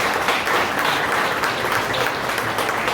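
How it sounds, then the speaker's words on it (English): Sustained applause from a club happy-hour audience after a political talk, dense steady clapping filling the room at close range, with no break and no talk on top. "Another round of applause"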